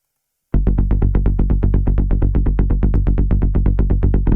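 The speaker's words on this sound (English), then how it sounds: "Let's start with the low bass, which sounds like this by itself." A low, deep Serum synth bassline for melodic techno enters after a short silence and then pulses in fast, evenly repeated notes, loud and steady with no talk.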